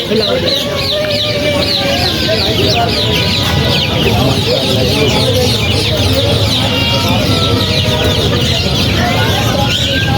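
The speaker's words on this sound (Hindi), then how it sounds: "सफेद मुर्गा" Hens and roosters, including a white rooster, cluck continuously in a dense, noisy flock, loud and close, with a busy farmyard din throughout.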